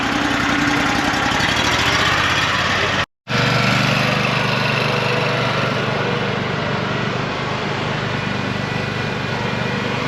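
A Cheetah 38 horsepower riding lawn mower engine runs at a lawn care demo event, giving a steady, loud, close mechanical drone that cuts out for a brief instant and then carries on evenly.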